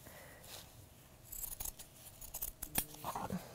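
Pinking shears snip through fabric near a seam, a quiet series of crisp close cuts and clicks that cluster toward the end.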